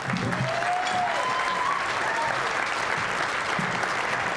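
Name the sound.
audience round of applause for Zenobia Webster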